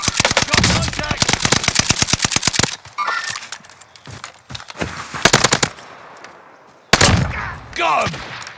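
Machine gun fire in the video game Call of Duty: Modern Warfare, with long rapid bursts of loud shots, shorter volleys after pauses, and radio-style voices between them.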